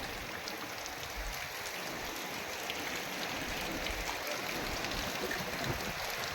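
Heavy rain pours steadily in a village, with gusting wind mixed into a continuous dense hiss of drops on surfaces, holding at an even level throughout and free of voices.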